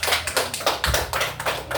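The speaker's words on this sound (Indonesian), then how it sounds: "Baik, kita beri aplaus buat kelompok 3." A classroom group of students claps for group 3 in quick, close, repeated bursts, a brief round of applause with no talking over it.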